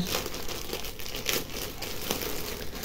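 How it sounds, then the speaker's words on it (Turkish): Crinkly plastic packaging around new clothing is pulled open, a continuous close crackling and rustling of film with sharper crinkles throughout, with no voices. "Bu paketleri yırtmadan açabilen var mı?"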